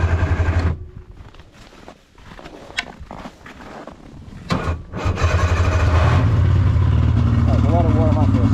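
A snowmobile engine idles while warming up before a ride in snowy Northern Michigan, a steady low rumble that dips and then grows louder and fuller near the end, with people talking over it.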